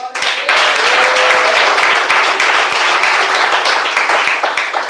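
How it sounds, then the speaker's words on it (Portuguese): Loud, dense clapping from a church congregation starts almost at once and continues evenly to the end, with no talk over it. "Palmas"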